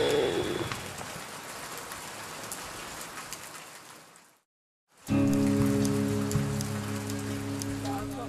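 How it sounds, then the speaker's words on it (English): Steady rain falls outdoors on a wet morning at an army recruit training camp, a dense hiss of drops at close range. It drops out to near silence for a moment, then returns over a low droning hum. "The following morning, the rain continues, and so does the damp mood."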